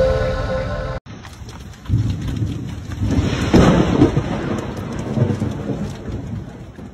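Thunderstorm with heavy rain, a dense steady downpour hitting surfaces close by while deep rolling thunder swells and rumbles loudly through the middle, starting after a sharp cut.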